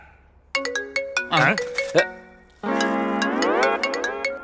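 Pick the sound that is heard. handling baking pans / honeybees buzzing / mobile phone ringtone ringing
mobile phone ringtone ringing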